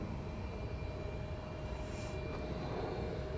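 An airliner departs runway 22 at Chicago O'Hare with a steady, moderately distant engine roar and a faint whine, alone without talk.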